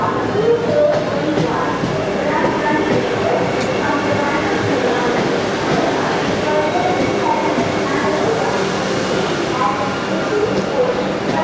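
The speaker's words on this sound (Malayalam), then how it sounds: "തിരുവനന്തപുരത്ത് മംഗലാപുരത്തേക്ക് പോകുന്ന 20632 വന്ദേ ഭാരത് എക്സ്പ്രസ് കയറി വന്നിരിക്കുന്നു." The 20632 Vande Bharat Express, bound from Thiruvananthapuram to Mangaluru, rolls into the station with a steady rumble and rattle of cars, heard close by under a voice talking.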